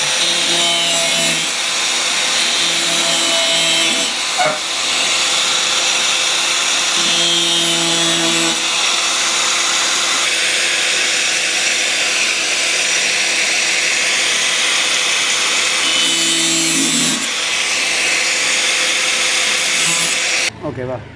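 Sawing through a plastic 20-litre water can, cutting a V-shaped opening to turn it into a beehive; a steady, continuous rasping cut runs close and loud throughout with brief pauses, and no talking.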